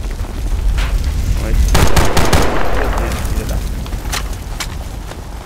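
Heavy machine gun fire in Battlefield Bad Company 2, loud sustained bursts with booming impacts and sharp cracks, dense and close throughout.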